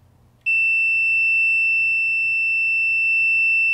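A single steady electronic beep from a multimeter continuity test that starts abruptly and holds as a pure, loud tone for several seconds.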